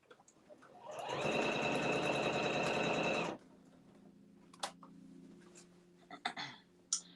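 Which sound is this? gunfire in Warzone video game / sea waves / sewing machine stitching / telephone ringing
sewing machine stitching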